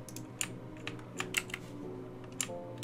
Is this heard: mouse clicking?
yes